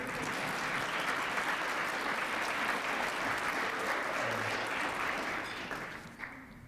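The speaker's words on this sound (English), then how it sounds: "A louder round of applause, please." An audience at a Richmond dialogue dinner breaks into a long, even wash of loud applause that holds steady before fading slightly at the end.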